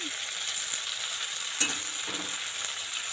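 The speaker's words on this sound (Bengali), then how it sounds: "নুন হলুদ খুব ভালো করে এটা ঢ্যাঁড়সটাকে ভাজতে লাগবে" Okra fries in a pan with turmeric and salt, a continuous close sizzle with a soft scrape or two partway through, no voices present.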